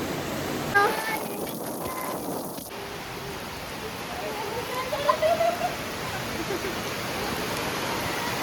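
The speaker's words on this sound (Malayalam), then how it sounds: "പുറത്ത് ഭയങ്കര മഴയാണ്" Heavy rain pours outside in Kakkanad, a dense, continuous wash of falling water that stays fairly even from start to finish, with a faint knock near the start.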